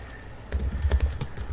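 Quiet keystrokes on a computer keyboard, a short run of soft irregular clicks and taps at close range with no voices.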